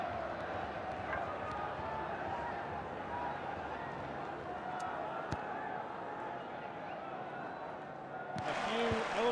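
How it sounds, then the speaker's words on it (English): A stadium crowd in a football video game chants olés as a team keeps possession, a continuous loud roar of many voices with a commentator talking over it. "olés from the crowd here"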